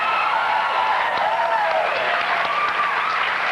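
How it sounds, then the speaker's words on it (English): A studio audience applauds steadily and warmly throughout, continuous clapping at moderate distance with a faint voice underneath. "Look at the claps."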